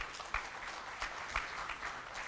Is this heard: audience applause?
yes